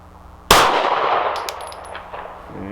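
A Rost Martin RM1C pistol fires once at a 3-inch steel plate from 12 yards: a sharp crack is followed by a bright metallic clang that rings and fades over about two seconds.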